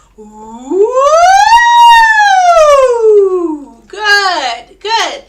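Voice warm-up in a choir practice where a singer imitates a siren with a long rising and falling slide, then two shorter swooping whoops, close and loud.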